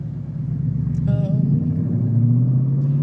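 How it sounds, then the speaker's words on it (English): A loud car passes close by on a road, a steady engine rumble swelling and holding under a brief higher whine, with no other sounds over it. "that car was really loud"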